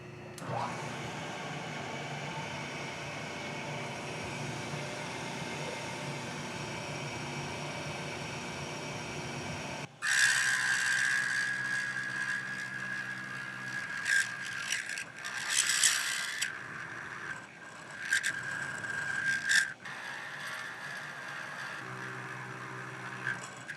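A milling machine runs in a motorcycle shop while a big bore motor is being modified. A steady whirring hum gives way to a louder cutting whine with a sustained tone and uneven surges, fairly close.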